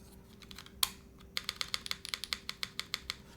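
Yunzii AL66 mechanical keyboard fitted with new switches, typed on in a steady run of close, crisp clacks after one sharp early strike and a few softer taps, with no one talking.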